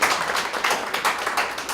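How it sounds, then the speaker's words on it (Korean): Steady, dense clapping from an audience at a humanities lecture in Chuncheon, a loud, continuous wash of many hands with no voices over it. "박수."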